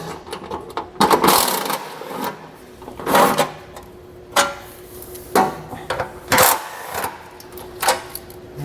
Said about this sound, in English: Take our socket, get all these removed.